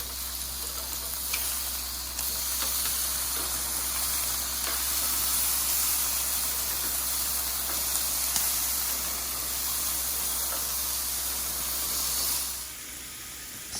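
Meat sticks sear hot and fast in a pan just after being flipped, giving a loud, continuous hissing sizzle that holds steady and then drops away sharply near the end.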